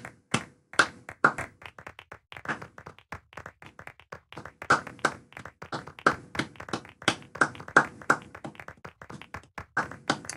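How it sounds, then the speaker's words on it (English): Scattered hand claps in a video game ring out in an uneven, sparse rhythm, sharp and close, with brief gaps between bursts and no talking. "A round of applause for the new seeds."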